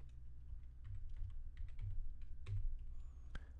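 Computer keyboard keys being pressed during Ableton Live work, a run of soft, scattered clicks and taps at close range over a low background hum, with no voices.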